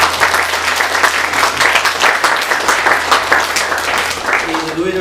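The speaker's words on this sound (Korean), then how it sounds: "우리 서로를 위해서 격려의 박수를 올려드리겠습니다" A church congregation at an ordination thanksgiving service applauds in a dense, sustained wash of clapping that fills the room, with a voice coming in near the end.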